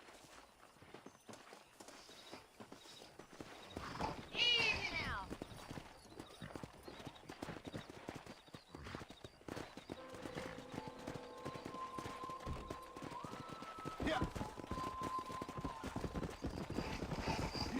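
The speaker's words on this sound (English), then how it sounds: "there's a pack of wild horses nearby" Hooves of wild horses clip-clop near the rider in the Red Dead Redemption video game, with a neigh around the midpoint and steady hoofbeats throughout, while someone speaks briefly over game music tones.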